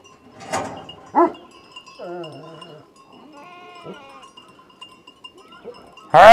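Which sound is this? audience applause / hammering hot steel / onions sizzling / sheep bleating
sheep bleating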